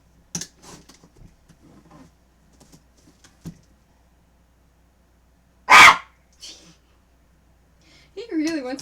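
An indoor dog lets out a single sharp, loud bark amid near-silence, with a few faint shuffles and a voice speaking briefly near the end.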